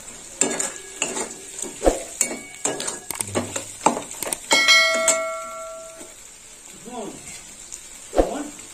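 Four slit green chilies hitting hot oil for a prawn dal, giving a steady close sizzle broken by sharp clinks of a spoon against the pan and stirring scrapes, with a faint bell-like tone and light voice sounds in the background.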